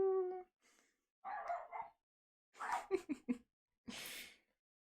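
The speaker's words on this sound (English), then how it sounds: "What are you barking?" A dog named Finnegan makes a few short bursts of barking and yipping sounds, separated by pauses, close and moderately loud, with sniffing and breathing noises in between.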